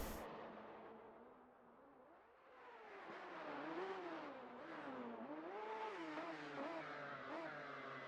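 Race car engine in the GT Club racing game revving and accelerating up through the gears to sixth, a steady whining drone rising and dipping in pitch with each shift, continuous and fairly loud with no talking.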